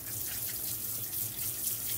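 Steady stream of water running from a kitchen tap to rinse soaked rice, a continuous broadband hiss at close range with no talk.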